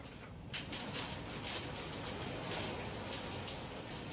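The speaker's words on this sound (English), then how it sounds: "it downpouring outside right now" Heavy rain pours down outside in a steady, dense hiss that stays loud and unbroken throughout, with no voices.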